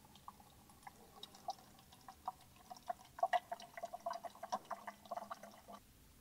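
Purified water trickles and drips into a skin cleaning machine's bottle, a soft uneven patter of small splashes that quickens slightly midway, faint and close.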